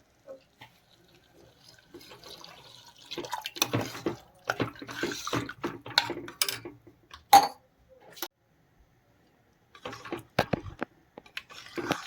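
Water is poured into a cooking pot of cracked-wheat khichdi in uneven splashing bursts, loud and close, broken by short pauses and a quiet gap before a final trickle.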